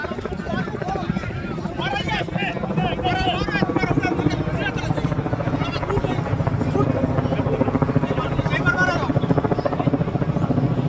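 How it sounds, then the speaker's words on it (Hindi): Helicopter hovering and preparing to land at a crowded wedding event in Barmer, a loud close rotor thudding in steady rhythm over crowd noise and talk. "अब दूसरी बार फिर से हेलीकॉप्टर उतारने की तैयारी में है"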